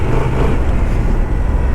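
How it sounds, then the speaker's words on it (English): A Honda Transalp 750 motorcycle climbs an uphill off-road stretch in second gear, its engine a loud, steady low drone mixed with heavy wind buffeting, with no voices. "Let's give it a try on uphill with the second gear and see how it behaves."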